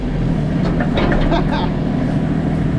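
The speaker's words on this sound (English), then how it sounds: "I have no idea if you can hear me over the diesel engine in this JCB" A loud JCB machine's diesel engine rumbles steadily throughout, heard from the driving seat, with a voice speaking briefly over the drone.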